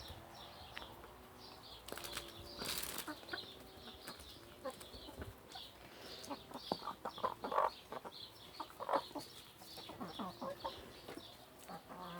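Chickens cluck and murmur nearby in short, scattered bursts, with occasional wing flaps and rustling, no talking.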